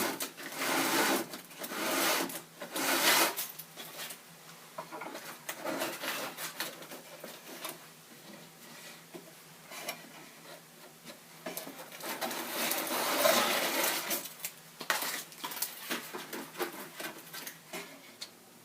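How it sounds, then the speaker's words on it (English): Sandpaper drawn through a slot in a guitulcimer body during its build, giving repeated rasping strokes in uneven bursts, close and fairly quiet, with no voices. "sandpaper, which has got the slick on the back side, and slip it in here and just draw it through"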